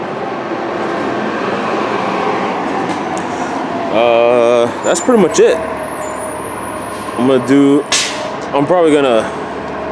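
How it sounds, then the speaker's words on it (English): A city bus rumbles past on a Santa Barbara street, a steady broad engine and road roar that fills the clip, with someone talking over it in the second half. "City bus is moving by, so it's going to be a little noisy."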